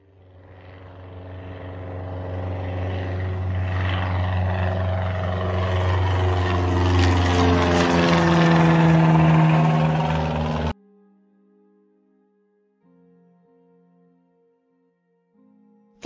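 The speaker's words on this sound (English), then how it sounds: "Different types, such as commercial, military, and private planes." An airplane engine drones as it flies past, swelling steadily for about ten seconds and then cutting off abruptly, followed by a few faint tones.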